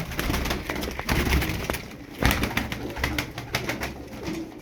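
Tumbler pigeons coo in soft, repeated throaty calls among rustling and fluttering close by, a busy loft-like murmur with no talking.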